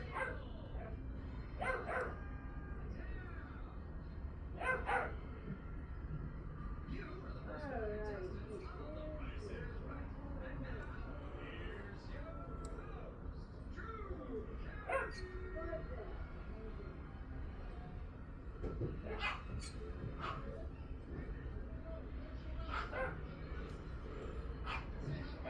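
Several small dogs yap and bark in repeated sharp bursts through the scene, fairly close, with voices talking over much of it.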